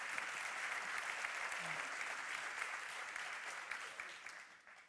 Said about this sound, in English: So if you would say, please a round of applause.